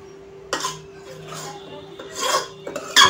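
Pasta is stirred with mozzarella cheese in a pan, producing intermittent scraping and rubbing strokes of a utensil against the pan bottom, separated by short pauses, over a faint steady hum with a voice talking.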